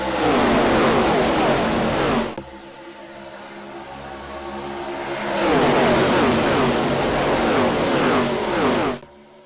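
Engines of ARCA stock cars racing at Daytona in iRacing roar past in two long loud swells with a quieter gap between them, as if the pack sweeps by close and then comes around again.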